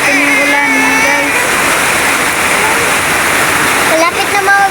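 Rain begins falling as a storm approaches, a loud continuous hiss of drops on surfaces that dominates throughout, while a person talks over it at the start and again near the end.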